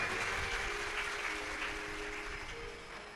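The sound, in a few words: audience clapping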